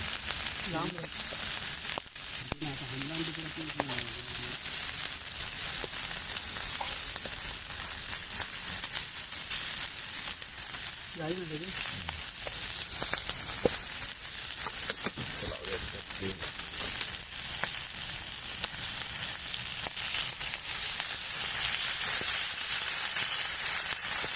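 Hot oil sizzles and fries steadily throughout as chicken tandoori and liver cook outdoors in the hills, a continuous bright crackling hiss, with brief voices talking over it at moments.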